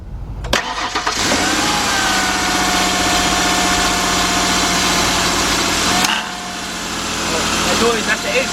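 A Ford Explorer engine cranks briefly, catches and settles into a loud, steady idle close by, with a shift in tone near the end as an accessory kicks in.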